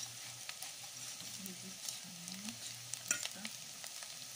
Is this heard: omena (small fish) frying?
yes